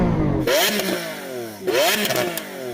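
A Lamborghini Aventador SV V12 engine blips twice, each rev climbing sharply then dropping away, loud and close.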